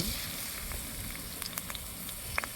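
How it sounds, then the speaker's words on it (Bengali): Chopped onion frying in hot oil in a wok, a steady soft sizzle and hiss with a few faint crackles and pops, quiet and close with no talking. "কড়াই তেল দিয়ে দিচ্ছি পেঁয়াজ কুচি"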